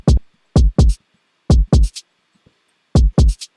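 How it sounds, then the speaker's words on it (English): A punchy, subdued kick drum sample from a One Mind sample pack plays alone in a beat pattern, its dry, tight hits falling mostly in close pairs with short gaps between. "I fell in love with this kick that they released"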